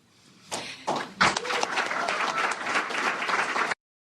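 An audience breaks into sustained applause after a political speech line about not letting Florida or the country down, starting with scattered claps that quickly swell into a full, dense crowd ovation and cutting off abruptly.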